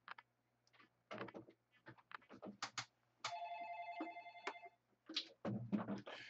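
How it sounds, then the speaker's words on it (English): Telephone ringing indoors in an office setting, a sustained electronic ring tone amid handling clicks and bumps, close and fairly quiet. "let me just mute this phone"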